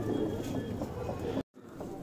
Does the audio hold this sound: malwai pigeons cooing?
yes